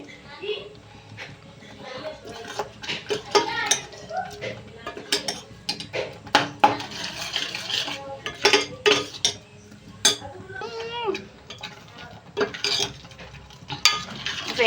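Paneer curry mixture is stirred in a pan, with repeated scraping and clinking of a spoon against metal while a person talks throughout.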